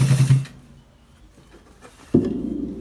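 A sewing machine stitches a shirt collar: a brief whirring run at the start stops, followed by a quiet pause, then the motor starts again and runs steadily to the end. It is close and moderately loud, with no talking.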